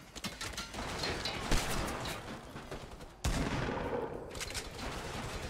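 Rapid gunfire in the video game Fortnite, bursts of automatic shots rattling close and loud, broken by a brief pause before another sustained volley resumes.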